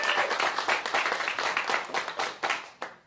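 A live audience claps for the Hoosiers, an independent team from Indiana, at a kick-off event. The clapping is steady and dense for about three seconds, with a few louder individual claps near the end.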